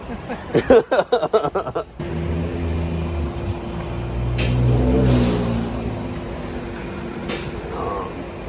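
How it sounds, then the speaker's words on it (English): A loud, sharp whoosh from a turbocharged EcoBoost Ford truck's blow-off valve follows a burst of engine revving, with idling engine noise nearby and people talking around it. "Yeah, that was a loud ass blow off valve."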